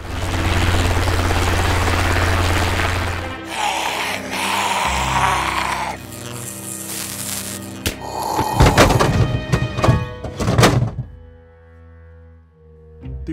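A helicopter's heavy rotor drone fills the opening, then gives way to loud explosive booms and crashing blasts, with no one speaking.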